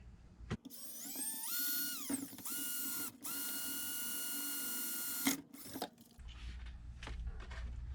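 A power drill bores holes in a plastic milk crate, several high whining bursts that rise in pitch and run for a second or two each, close and fairly loud, with short pauses between them.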